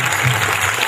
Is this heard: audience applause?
yes